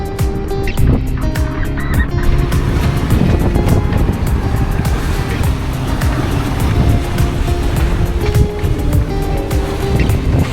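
A sailboat sails north at sea, with a loud, steady roar of wind and rushing water filling the whole stretch.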